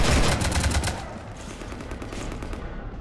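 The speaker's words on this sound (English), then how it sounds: "You want to stop shooting up my ship?" A loud close burst of rapid gunfire in Mass Effect shoots up a ship, dense repeated shots at first then trailing into rattling impacts and fading noise.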